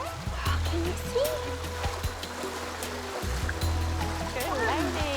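River water splashing and churning as people wade through it alongside orphaned orangutans, a steady rushing wash with sloshing surges throughout, while people talk over it.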